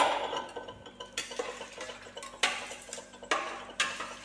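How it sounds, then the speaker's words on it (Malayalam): Rice and water being stirred in a pot while making ghee rice, a few quiet scraping and clinking strokes of a spoon against the pot at an irregular pace, with no voices. "ഒന്ന് ഇളക്കി കൊടുക്കാം"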